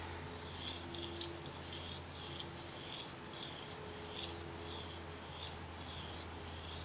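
A Mizuno knife is drawn across a fine whetstone with light downward pressure, giving quiet, rhythmic scraping strokes, about a dozen evenly spaced passes, close and soft with no talking.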